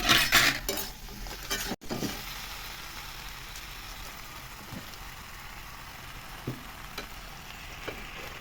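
Spinach, tomato and bori frying in a pan, a soft steady sizzle after an opening burst of clattering and stirring, close and fairly quiet.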